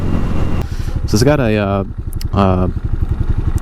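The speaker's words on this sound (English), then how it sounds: "some kind of like cheap Chinese racing exhaust for a CRF 230" A Hawk 250 motorcycle fitted with a cheap Chinese racing exhaust made for a CRF 230 idles with a low, steady pulsing putter close by, while someone talks over it.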